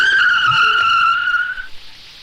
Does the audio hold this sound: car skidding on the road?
yes